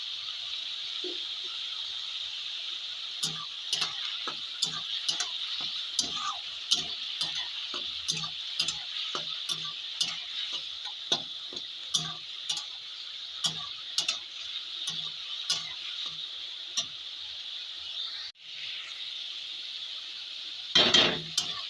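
Onions frying in a pan, a constant bright sizzle under regular sharp taps and scrapes of a spoon stirring, close up, ending with a brief louder clatter and no speech.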